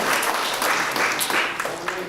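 A church congregation applauding, dense continuous clapping from many hands filling a hall, loud and steady throughout with a faint hint of voices mixed in.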